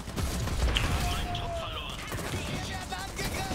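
Heavy gunfire and booming impacts in the strategy game Iron Harvest during a fight with a mech, a continuous rumbling barrage with low thuds and mechanical clatter throughout.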